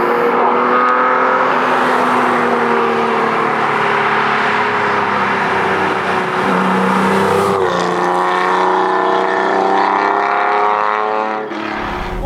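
Steady, loud in-cabin drone of a TVR Tuscan S sports car engine under way, pitch holding then stepping up after a gear change, with road and wind noise and no talking.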